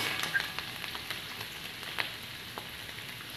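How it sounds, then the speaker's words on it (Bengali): Steamed freshwater snails fry in a pan for a Bengali gugli posto, giving a steady soft sizzle with faint crackles and a few small pops throughout, close and moderately quiet. "এবার একসাথে মিশিয়ে এবার গুগলিগুলোকে একটু ভাজতে দেবো"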